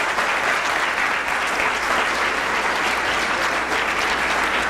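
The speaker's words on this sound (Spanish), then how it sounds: "Denle un aplauso a Él," A church congregation claps loudly and continuously during a Spanish-language service, a dense sustained roar of many hands with no pauses and no speech on top.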